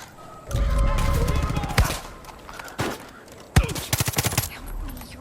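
Gunfire in Far Cry 5 on PlayStation 5: a sustained automatic burst, then scattered single shots and a rapid rattling volley near the end, loud and close.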